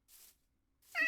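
A Minecraft cat gives a soft breathy sound, then after a short silence a clear, tonal meow, both close and on their own.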